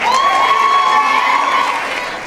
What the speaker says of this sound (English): please give a round of applause to Benjamin Colden